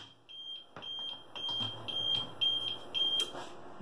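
An APC RS1200 UPS running on mains power gives a repeating series of short, high electronic beeps in a regular on-off pattern, clear and close over a quiet room.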